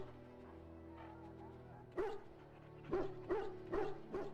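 A hound in the Dragon Age video game barks several times in short bursts, fairly close, over a low steady ambient drone.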